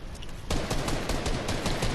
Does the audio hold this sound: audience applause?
no